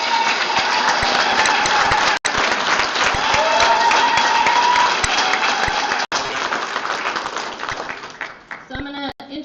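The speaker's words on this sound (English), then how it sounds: "Give yourselves a round of applause for being here." A conference audience of the Jesus Eat Fry Bread Conference applauds, dense sustained clapping from a large crowd that fills the room, then tapers off as a voice begins speaking near the end.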